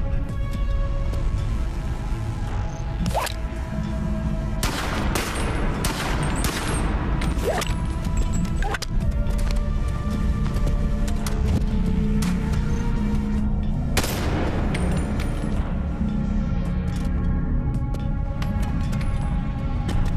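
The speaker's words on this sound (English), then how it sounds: "There's a turret." Turret gunfire in the BONELAB VR game: dense, continuous bursts of shots crackle over a busy rumbling mix, with sharp sharp cracks and metallic clatter standing out throughout, loud and close.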